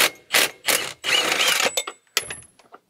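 A ratchet fitted with a chrome socket works on Chevy Silverado seat bolts. It gives several sharp clicking bursts in uneven rhythm, one longer whirring stretch of rapid clicks, and then a few faint taps, all close and with no talk.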